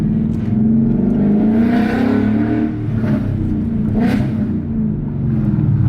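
A Mustang GT engine with a new X-pipe exhaust and electric cutouts hums loudly and steadily, its pitch rising and falling as it revs up and drops back several times, close by.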